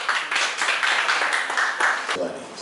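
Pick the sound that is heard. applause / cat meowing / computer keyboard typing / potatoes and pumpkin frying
applause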